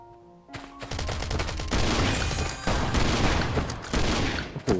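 Shotgun fire in the mobile survival game Last Island of Survival, fighting zombies in PvE mode: loud, dense rapid blasts start abruptly and continue in a heavy barrage, with no voices.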